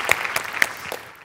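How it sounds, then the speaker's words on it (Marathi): Applause from a studio audience after a Marathi comedy skit on a television comedy show, a short burst of clapping that fades out quickly. "क्या बात है जोरदार टाळ्या"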